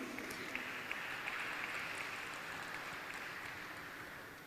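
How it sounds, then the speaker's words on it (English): An audience at a stock exchange listing ceremony for a steel tubes company applauds in a steady, moderately distant round of clapping that tapers off slightly toward the end. "Let's begin this beautiful morning with a round of applause for all of you."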